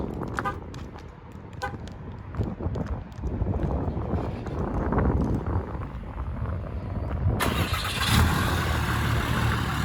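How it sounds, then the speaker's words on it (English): A 2012 Ram 2500 crew cab long bed pickup starts by remote, its engine cranking and catching into a rising idle rumble under wind buffeting on the microphone, with a brief chirp early on and a sharper surge of noise near the end. "Now that I've reset it, it should remote start for us."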